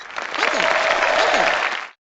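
A canned applause effect from the You Don't Know Jack trivia game, a short swell of crowd clapping and cheering that rises quickly, holds briefly and cuts off abruptly.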